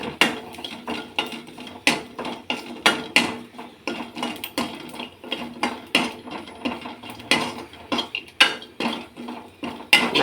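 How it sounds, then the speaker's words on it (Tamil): Garlic roasting in a pan for sesame spice powder gives repeated sharp metallic scrapes and clinks of a spoon against the pan, rhythmic and close, with a faint sizzle underneath and no talk. "பூண்டு இது வறுக்கிறேன்."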